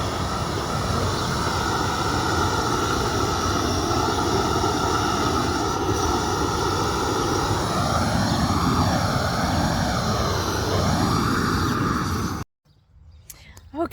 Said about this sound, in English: you just saw Scott doing the propane burner for me